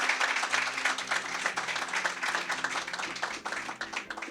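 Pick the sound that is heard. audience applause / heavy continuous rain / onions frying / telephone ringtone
audience applause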